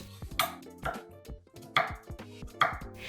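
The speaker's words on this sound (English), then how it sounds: "Start by peeling and slicing your beets and sweet potatoes" A knife slices through beets and sweet potatoes on a cutting board, giving four or five crisp, separate chops at a steady rhythm. The cuts sound close and clear with no voices.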